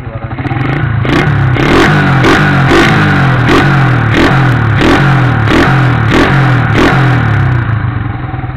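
Yamaha Vixion motorcycle with a PE28 carburetor and aftermarket FU exhaust revving hard and close, a loud steady engine drone punctuated by about a dozen evenly spaced throttle blips.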